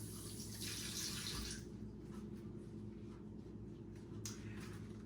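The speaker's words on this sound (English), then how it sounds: "Let me wash my hands off a little bit here." A kitchen tap runs steadily while hands are washed under it, a continuous soft splashing rush that is quiet and close, with a couple of brief clinks and no one talking.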